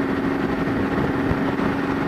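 A Suzuki Boulevard M109R motorcycle fitted with Cobra exhaust idles nearby in a steady, loud, low rumble that holds even throughout, with no talk over it.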